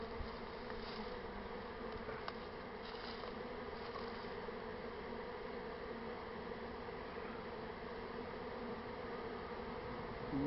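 A honey bee swarm in Columbia, South Carolina fills the air with a steady, dense buzzing hum from many bees, constant and moderately close throughout with no voices.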